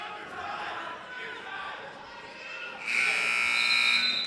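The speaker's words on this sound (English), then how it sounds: "The buzzer sounds, ending the first 2-minute round." A loud, steady buzzer blares over crowd noise and commentary at a wrestling match, ending the first two-minute period, lasting about a second and a half at the end.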